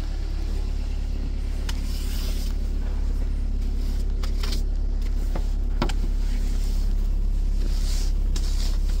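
A vehicle drives slowly through snow in a cold valley, its steady low engine rumble and tire noise constant, with wind buffeting the microphone and occasional faint knocks, and no talking.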